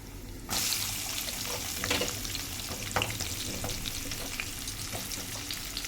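Onions sizzle and fry in a hot pan with asafoetida powder in Telugu home cooking, starting as a sudden loud hiss after a quiet moment, then a steady close crackle with occasional stirring clatter, no talk.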